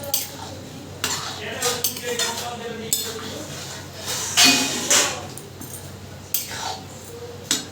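Metal and ceramic clinks and clatters in a home kitchen as a plate is set over a cooking pot as a lid, with several sharp knocks and scrapes over a faint background hum.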